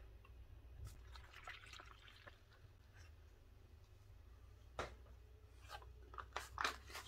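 Eight fluid ounces of cold water poured into the flameless heater bag of a 2019 US MRE, heard as a faint trickle with scattered drips and small splashes in a quiet room.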